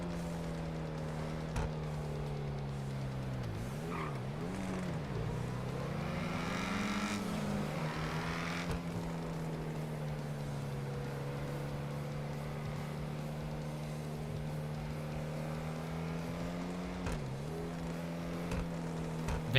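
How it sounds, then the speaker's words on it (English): A van's modded engine in a video game drones steadily throughout, with its pitch dipping and rising as it revs and shifts, close and continuous with no talk. "Van sounds like the Z. It's got the same engine mod in it."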